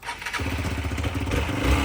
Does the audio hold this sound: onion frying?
no